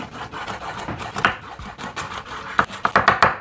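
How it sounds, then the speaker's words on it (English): Peeled carrots being sliced with a knife on a wooden cutting board, a run of close, quick cuts that grow into a brisk, uneven series of sharp taps. "Peel your carrots. And just quickly slice them up."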